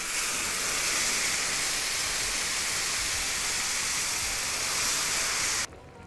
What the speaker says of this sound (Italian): Cominciate la cottura, acqua calda, anzi acqua bollente,